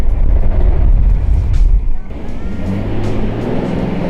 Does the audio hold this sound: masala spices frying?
no